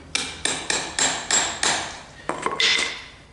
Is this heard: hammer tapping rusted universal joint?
yes